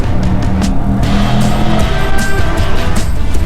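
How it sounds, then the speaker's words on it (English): A Morgan Aero 8 with a BMW engine roars nearby, its exhaust note rising and surging with sharp crackles and bursts of wind rush over a busy, loud drive. "fantastic exhaust note"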